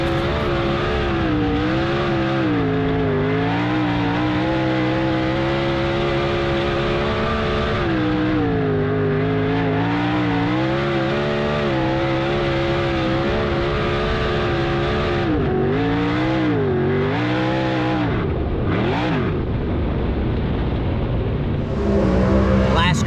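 A race car engine roars continuously up close during qualifying laps at Avalon Raceway, rising and falling in pitch as it accelerates and shifts through corners.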